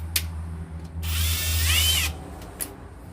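A power drill with a 13/64 bit spins up for about a second, whining steadily with a rising pitch near the end, preceded and followed by short clicks and handling noises.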